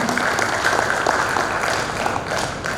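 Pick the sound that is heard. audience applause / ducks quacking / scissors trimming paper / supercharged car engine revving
audience applause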